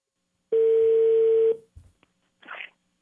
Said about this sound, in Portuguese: Vamos ligar pra ela.